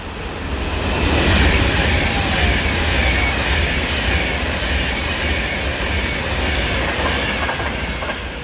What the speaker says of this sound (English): As incoming through now will be a Avanti West Coast service from Glasgow Central to London Euston.